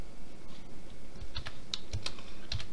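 Computer keyboard typing while scripting in Roblox Studio: a short burst of several close, crisp key clicks in uneven rhythm over a faint steady background hum, no voices.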